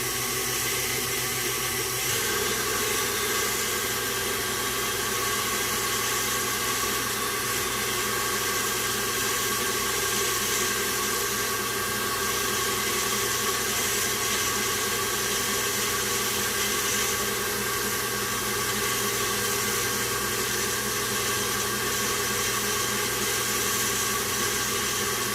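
A stand mixer with a whisk attachment whips French vanilla Chantilly frosting, giving a steady, unbroken whirring hum that stays at an even, moderately loud level throughout.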